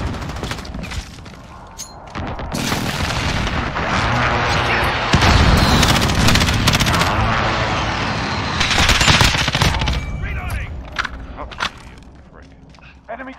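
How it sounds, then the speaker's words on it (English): A precision airstrike lands in a Call of Duty Modern Warfare beta match as a sustained barrage of loud booms and rattling gunfire, swelling and easing over several seconds, with in-game voices calling out. "Be advised, friendly precision airstrike inbound."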